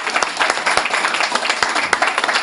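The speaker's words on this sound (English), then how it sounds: "Round of applause for Margaret." An audience at an evening talk breaks into steady applause, a dense, close patter of many hands with a few sharper individual claps standing out, sustained throughout with no voices over it.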